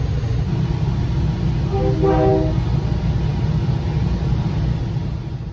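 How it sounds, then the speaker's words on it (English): A Metra Electric train on the Blue Island Branch rumbles past steadily and loudly, with a brief horn-like tone sounding in the middle of the continuous roar. "As the other train passed"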